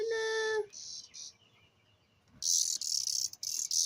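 Loud, dense buzzing of cicadas outdoors, a steady high drone that drops away briefly and then surges back strongly, with a faint chirping tone early on.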